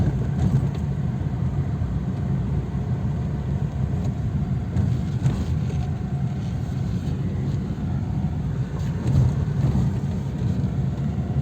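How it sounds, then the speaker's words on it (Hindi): Steady low engine drone from a Tata Tiago CNG moving slowly in second gear with the air conditioning running, a continuous, fairly even interior rumble with no talk over it. "फ़िलहाल आवाज़ इसके इंजन की उतनी ही है जितनी मैंने ली थी।"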